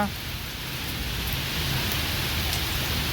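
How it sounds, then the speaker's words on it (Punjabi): Heavy monsoon rain pours steadily near the village of Fattewal outside Mallanwala, Ferozepur, Punjab, a dense, constant hiss of drops on surfaces at even loudness throughout, with no voices. "ਸੋ ਤਸਵੀਰਾਂ ਤੁਹਾਡੇ ਨਾਲ ਤੇਜ਼ بارش ਦੀਆਂ ਸਾਂਝੀਆਂ ਕਰ ਰਹੇ ਹਾਂ"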